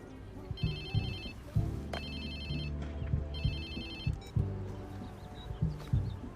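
A mobile phone in the video game Watch Dogs 2 rings in repeated electronic bursts, a bright trilling tone pausing between rings, over game music and background sounds.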